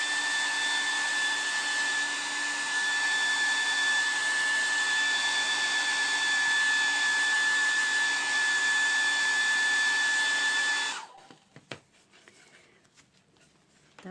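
Hair dryer drying paint on an MDF box, blowing with a steady, loud, close whoosh and a whine for about eleven seconds before it switches off, followed by faint handling noises.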